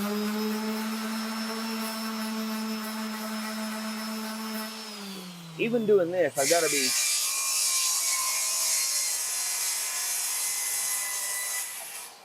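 A power sander running with finer grit on a cracked laminated bow limb hums steadily, dips in pitch as it bites into the wood, then gives way to a loud, broad abrasive hiss; someone speaks briefly over it.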